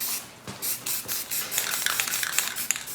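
A Rust-Oleum primer spray can hisses onto sheet metal in a series of close, loud bursts, some short and some longer, with brief gaps between them and no talking.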